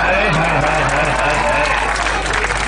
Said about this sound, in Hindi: ताली बजा रहे